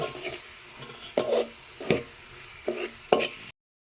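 Softened onion frying in a pan, stirred with a spoon in several distinct scraping strokes over a low sizzle, close and moderately loud, with no talk.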